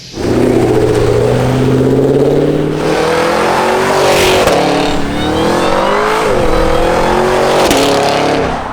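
A powerful modified 800 HP Cadillac Escalade engine revs and accelerates loudly on the street, pitch climbing and dropping through gear changes, close up and continuous without talk.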